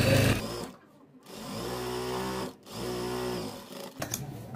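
A sewing machine runs in two close, steady bursts of rapid stitching, with brief pauses between them, as it sews the leg opening of a salwar.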